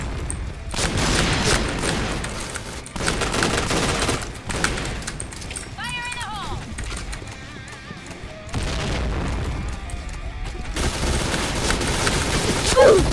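Gunfire in a first-person shooter video game, loud bursts of rapid shots and booming reports in several long volleys, with short gaps and faint in-game effects between them.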